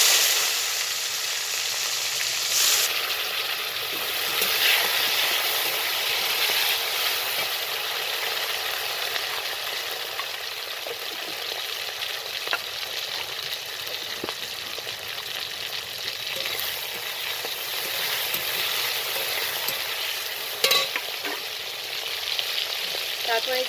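Chopped tomatoes fry in hot oil with cumin seeds and dried red chillies, giving a steady close sizzle for the whole stretch, broken by occasional scrapes and clinks of stirring.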